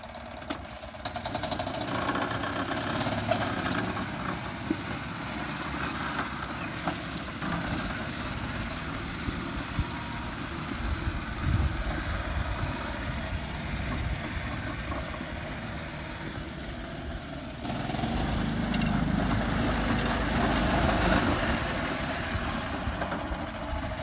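A golf buggy engine runs steadily while driving, a continuous loud mechanical drone with rattling that swells in the last few seconds, with no talk over it.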